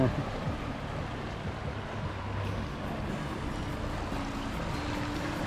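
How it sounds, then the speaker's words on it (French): A cruise boat comes up the Savières canal with a continuous low rumbling wash of engine and churned water, close and steady throughout, while people talk quietly nearby. "C'est un bateau de croisière qui arrive."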